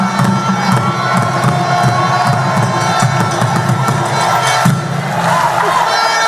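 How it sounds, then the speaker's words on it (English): A large town hall audience in the UK gives a standing ovation, loud sustained cheering, whooping and applause from a packed crowd filling the whole stretch without pause. "with a standing ovation and a rounds and rounds of applause"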